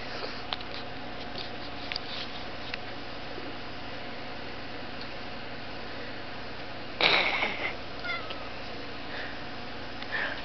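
Domestic cats at home, with a single fairly loud meow or yowl standing out against steady background hiss, followed by a few faint softer sounds.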